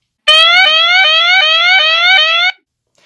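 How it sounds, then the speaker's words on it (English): Loud electronic warning alarm from a driver drowsiness detection system, a piercing rapid repeating tone lasting about two seconds, starting abruptly and cutting off cleanly, with no talking. "an alarm goes off"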